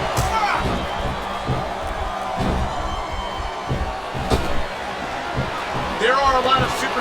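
A wrestling arena crowd chants and cheers in WWE SmackDown vs. Raw 2007, a continuous rhythmic roar under commentators' voices, with thumps from the ring action.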